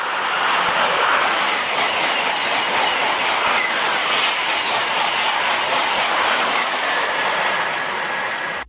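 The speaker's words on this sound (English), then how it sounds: "France has a network of 450 trains that are capable of traveling around 200 miles per hour" A French high-speed train passes with a loud, continuous rushing roar of wheels and wind that holds steady for several seconds, then cuts off abruptly.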